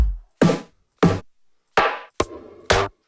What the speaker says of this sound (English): we got some drum sounds in there from the Oasis kit